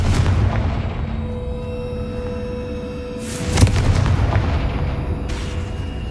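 A Confringo spell blast in the Hogwarts Legacy video game, a single sharp booming burst landing midway through a steady rumbling game background, loud and close.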